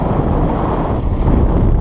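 Steady, loud wind buffeting at a rocky seashore, a dense rushing roar with no voices.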